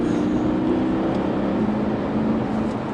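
A Porsche Cayenne S V8 Diesel with an 8-speed Tiptronic gearbox drives on-road in Sport Plus mode, giving a steady, loud engine drone with road rumble and no talk.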